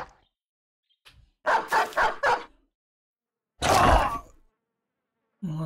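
A dog barks in the video game Battle Brothers: a quick run of three or four sharp barks, then a single longer, harsher burst after a short silence, loud and close with no other sound between.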